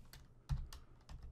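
Computer keyboard typing while coding JavaScript, a handful of quiet, quick key clicks at an uneven pace, close and faint with no talking.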